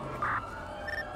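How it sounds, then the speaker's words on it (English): A brief, faint police siren tone from a GTA roleplay game sounds once at a distance, then fades to a softer echo over low background hum. "Charles, I hear the siren"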